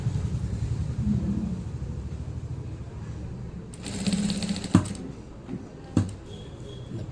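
Sewing machine stitches a garment in a steady close mechanical patter, with louder runs and a couple of sharp knocks as the work is handled; a voice talks over it in places.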